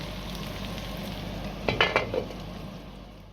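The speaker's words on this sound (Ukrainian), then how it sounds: "Отака в мене ікра смажиться" Steady sizzling of silver carp roe frying in a pan with a little water added, with a brief burst of louder crackling and spattering midway, then settling back to a constant hiss.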